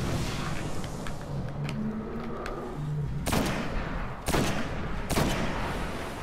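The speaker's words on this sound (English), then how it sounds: "Three shots to my sniper rifle" Three sharp sniper rifle shots in a fantasy co-op shooter, spaced about a second apart, each a loud crack over a busy background of game noise.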